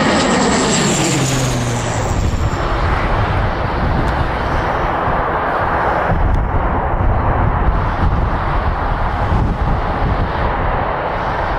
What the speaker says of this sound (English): This ATR-72 suffered an engine issue while taking off from Birmingham